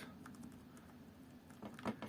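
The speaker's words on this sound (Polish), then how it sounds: "mnie ręka boli z tego ciągłego pykania na tą klawiaturę" Quiet, steady keyboard tapping on a computer, with soft, irregular keystroke clicks over a low background hum and a slightly louder cluster of taps near the end.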